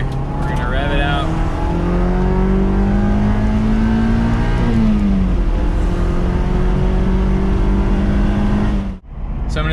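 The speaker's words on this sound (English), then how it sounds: "So second gear right here, we're gonna rev it out." Close and loud, an NC Miata fitted with a Racing Beat mid-pipe revs out hard in second gear, its engine note climbing steadily as it accelerates before cutting off abruptly near the end, with a voice talking over it.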